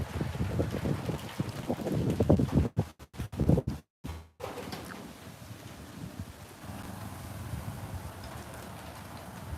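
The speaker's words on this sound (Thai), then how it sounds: "ลมพัดปลายกล้วยแล้ว" Steady wind rushes and gusts across the microphone, blowing through banana leaves as rain arrives, with a brief rustling burst partway through, and no voices.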